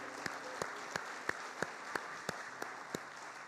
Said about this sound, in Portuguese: Você pode aplaudir mais uma vez o Senhor por isso?